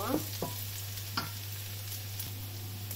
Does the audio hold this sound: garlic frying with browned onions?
yes